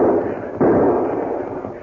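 Gunfire in a western film shootout: a sustained, loud burst of noisy crackling shots with a sharp fresh blast partway through, dense and continuous over a short stretch.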